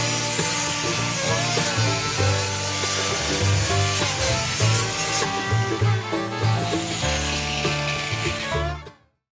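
An angle grinder works over the sharp edges of handmade metal car body panels. The loud, continuous abrasive whine wavers in pitch as pressure changes, then cuts off abruptly at the end.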